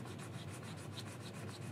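Sandpaper rubs back and forth in quick, even strokes over a machined metal T-800 endoskeleton arm part, a soft, close scratching rhythm heard alone and fairly faint.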